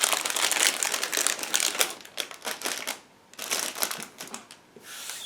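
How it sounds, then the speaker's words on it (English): A plastic bag holding the track link parts of a 1/35 scale Rye Field Model M1A1/A2 Abrams tank kit crinkles and rustles close up in quick, uneven bursts, with no talk over it. "They are packed into one plastic bag."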